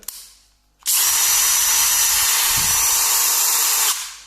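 A Parkside 12V cordless drill whirs at a steady high pitch for about three seconds, starting abruptly and winding down at the end, loud and close.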